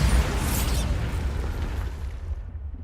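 Confringo and Bombarda spell explosions go off in Hogwarts Legacy gameplay, a dense, rumbling blast with heavy low-end boom that slowly decays and thins out.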